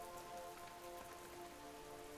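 Rain patters steadily on a window on a rainy night, a dense, even wash of drops with a faint tonal hum underneath.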